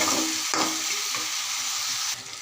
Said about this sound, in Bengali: আমি তিনটা আইটেম দিয়ে ভাজি করতেছি।